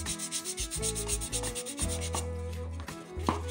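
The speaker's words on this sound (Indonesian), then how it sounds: "Agar permukaan topeng menjadi lebih halus, kita perlu mengamplasnya" Steady rubbing and scraping of sandpaper against a carved wooden mask, continuous and close, with a tonal hum running underneath.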